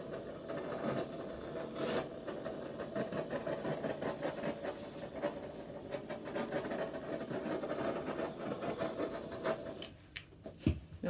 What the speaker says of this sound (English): I need to torch that.